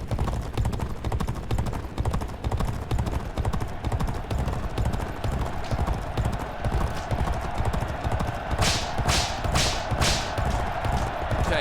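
Racehorse hooves gallop in a steady, rapid clip-clop rhythm throughout a horse race in the video game G1 Jockey 4, with a few whip cracks near the end over constant game noise.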